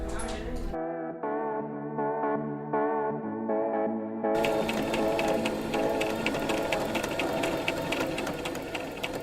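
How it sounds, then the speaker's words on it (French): A sewing machine stitches a small fish-shaped coin purse, its needle running in steady rapid bursts with short pauses before a longer, louder continuous run; close and clear, no talking. "Je suis en train de coudre quelque chose avec une machine à coudre."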